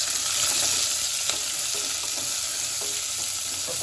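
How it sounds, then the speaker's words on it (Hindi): Chopped onions sizzle and fry in a pan for carrot and tomato soup while being stirred, a steady close hiss with light scraping from the spoon and no talking. "ये दोनों प्याज डाल देंगे हम इसके अंदर। ये देखिए ऐसे, इसको भी हल्का सा ऐसे चला देंगे"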